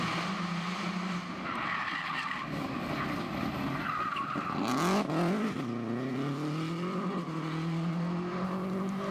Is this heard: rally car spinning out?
yes